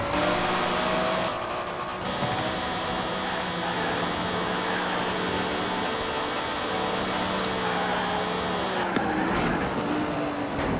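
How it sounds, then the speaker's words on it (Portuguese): Several race cars in Forza Horizon 4 jostling through a curve, including a Ferrari SUV, their engines droning loud and steady with harmonic whine shifting pitch, plus brief tire scrub and skid noise, no voices. "Olha como a galera troca tinta na curva, hein?"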